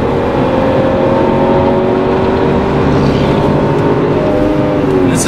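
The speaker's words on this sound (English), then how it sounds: "the 6-cylinder acceleration is more than adequate" Six-cylinder engine of a 2007 BMW X5 3.0si accelerating on the highway, a steady, loud drone with rising harmonic tones heard from inside the cabin, continuous for the whole span with no talk.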